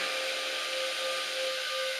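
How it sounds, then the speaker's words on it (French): Cooling fans of an automatic door spin with a steady, even broadband whir and hiss, accompanied by a faint constant tone, continuous throughout with no speech. "Les ventilateurs se mettent à tourner pendant 7 secondes"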